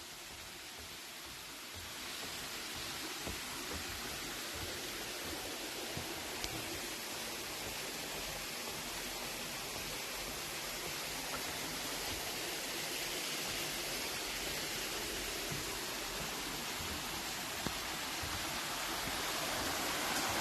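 Water runs through small caves at a quarry in Knoxville, Tennessee, making a steady broadband rush like a stream or small waterfall, fairly faint and unbroken throughout, with no voices.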